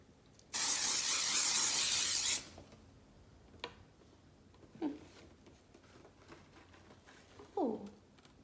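A scented mist is sprayed onto a cardboard box in one continuous loud hiss lasting about two seconds, followed by quiet handling noises and a few short vocal sounds.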